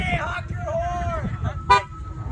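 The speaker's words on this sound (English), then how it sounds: "honk your horn" A Tesla at a car meet gives a short honk of its horn near the end, after people talk and a few tonal toots sound across the busy, close outdoor scene.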